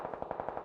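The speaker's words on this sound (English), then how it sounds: "They hear gunshots from there as well." A quick burst of about eight automatic gunshots in PUBG on the Vikendi map, evenly spaced and fairly faint, as if fired from a distance.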